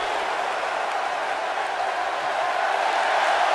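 A wrestling arena crowd at a women's match keeps up a loud, dense, steady roar of cheering that fills the hall without pause.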